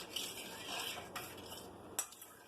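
Quiet spoon stirring crab soup in a pot, soft scraping swirls with a couple of sharp clinks against the metal rim, no voices.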